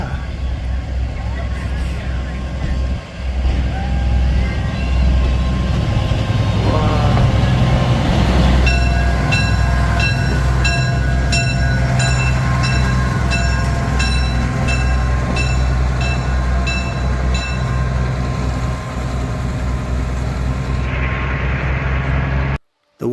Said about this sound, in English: we decided to stay on the Gone to get a better look at the GE65 tonner as it makes its run around the Excursion train